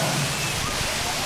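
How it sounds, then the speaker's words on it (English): A giant bucket of water at a waterpark dumps onto people below, a loud, dense rushing splash that fills the moment, with a voice talking over it. "The main attraction was this giant bucket of water that pours onto the people below."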